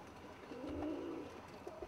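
A single soft, low coo from a Turner roller pigeon rolls out over a quiet background, steady and fairly close.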